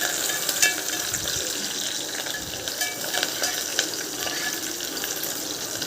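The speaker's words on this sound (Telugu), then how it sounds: "కొంచెం గోల్డ్ కలర్లో ఫ్రై వచ్చేదాకా ఫ్రై చేయాలి ఆనియన్స్." Onions and dried red chillies fry in a pan with curry leaves, giving a steady, close sizzle with faint crackles and an occasional stir. No one speaks.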